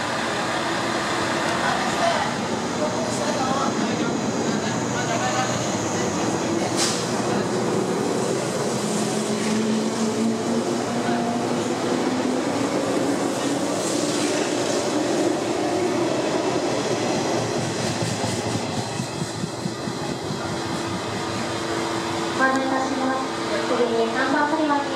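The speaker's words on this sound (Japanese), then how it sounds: "列車発車しておりますので、" JR East 485 series limited express Hokuetsu in Niigata livery pulls out of Toyama Station, a steady loud rumble of rolling train and motors that builds and shifts over the whole span, with station announcements and voices over it.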